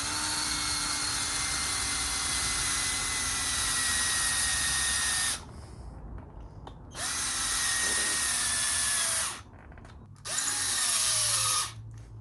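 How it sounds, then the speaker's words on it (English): A cordless drill bores into the floor of a Suzuki Swift ZC31S interior, whining loudly in three long bursts with short pauses between them. Its pitch sags late in the run as the battery fades. "I think the drill's running out of power."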